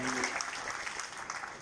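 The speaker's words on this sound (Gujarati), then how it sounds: "આ ઝીણા કાકા માટે આપણે તાળીઓ પાડો" A seated audience gives a round of applause for an elderly man, Jhina Kaka, the clapping steady and somewhat distant, with a voice briefly heard near the start.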